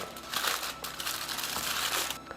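Aluminium foil crinkles and crackles in bursts as it is folded up around a camembert cheese, close and fairly soft, with brief pauses between rustles.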